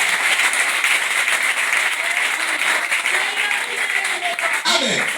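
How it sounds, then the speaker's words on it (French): A church congregation applauds in a dense, steady wash of clapping that fills the room for several seconds, with faint voices mixed in. "Ajoutez des acclamations."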